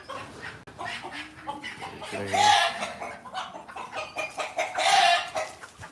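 Hens cluck close by while a rooster crows loudly twice, with steady farmyard chatter from the birds throughout.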